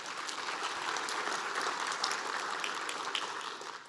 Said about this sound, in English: So let's give Tarleton State a round of applause.